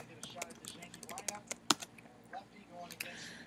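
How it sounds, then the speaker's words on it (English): Quick clicks and taps of someone typing on a computer keyboard, uneven bursts of keystrokes with one sharper hit near the middle, close and fairly quiet with no talking. "type in pre-chorus."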